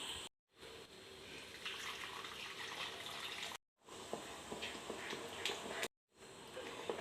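Jaggery syrup being poured into a payasam mixture with a faint, steady running-liquid wash. It cuts out briefly twice, with no speech.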